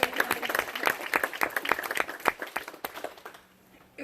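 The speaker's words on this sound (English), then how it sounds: "we're going to clap for them anyway." An audience at a Veterans Day 2019 ceremony claps for Coast Guardsmen: dense, steady applause from many hands that thins out and fades near the end.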